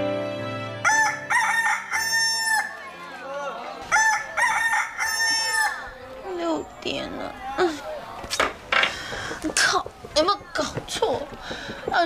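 A rooster crows at a market setting, several long cock-a-doodle-doo calls rising and falling close by, followed by clucking and busy overlapping chatter and noise from people nearby.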